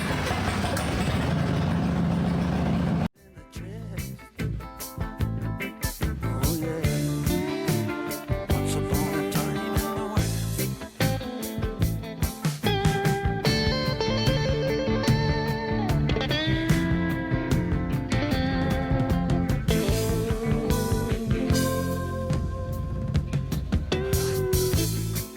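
A Harley-Davidson Fatboy motorcycle on a road test ride, its engine droning and rumbling continuously with rising and falling revs and gear changes, loud and close after a brief quieter opening.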